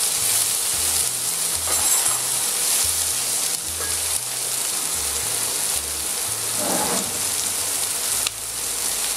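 Onions sizzling in a pan for a veal Marengo sauté, a steady loud frying hiss with crackles and occasional stirring, alone without talk.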